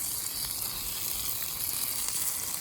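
Burger patties fry on a Blackstone griddle at a campsite, giving a steady, close, hissing sizzle that continues evenly throughout.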